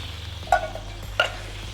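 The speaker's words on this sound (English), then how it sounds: "Give it a little stir." Green curry with coconut milk gets stirred in a pan, two soft scraping clinks of a utensil against the pan over a faint simmering background, with no talking.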